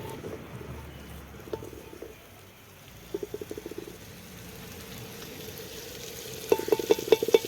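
Cinnamon, cumin and other spices fry lightly in a clay pot with a soft, quiet sizzle, broken by short bursts of scraping and stirring clicks that grow busier toward the end.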